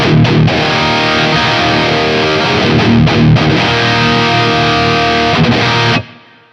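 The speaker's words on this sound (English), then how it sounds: "It's finally time to move on to the high gain section." A high-gain electric guitar plays through the BT Arkon 50 amp on its Encore 50 EBR preset, loud, thick and saturated with sustained chugging chords, then cuts off abruptly at the end.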